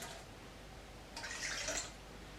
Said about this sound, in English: We need 120 grams of water.